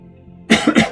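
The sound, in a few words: coughing and throat clearing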